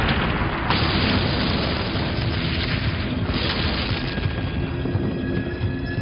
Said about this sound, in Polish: Ciszę rozdarł huk dwóch eksplozji.